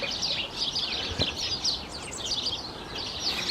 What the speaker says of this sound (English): You can hear the magpie cackling away over there.